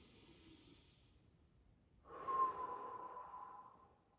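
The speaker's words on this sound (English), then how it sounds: "Keep breathing." Breathing during a lower body mobility exercise: a quiet breath, then a longer, louder breathy exhale through the nose starting midway that slowly fades, close and alone.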